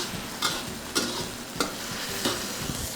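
Red chili paste cooks in oil for a restaurant-style Manchurian, giving a continuous close sizzle with four sharp spoon scrapes or taps against the pan at even intervals and no talking.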